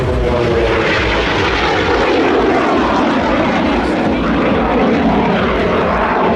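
A Yak-110 aerobatic aircraft performing at the Pacific Airshow, its engines producing a loud, sustained roar with shifting pitch as it maneuvers overhead.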